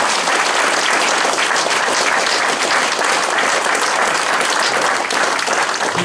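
Loud, sustained applause from a large audience, a steady wash of many hands clapping without pause.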